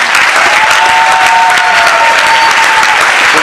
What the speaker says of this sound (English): how about a big round of applause for Mr. Dick Grant?